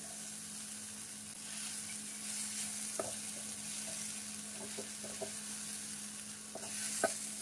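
Okra fries on a low flame in a steady, quiet sizzle, broken by a few soft scrapes of stirring near the end; nobody speaks.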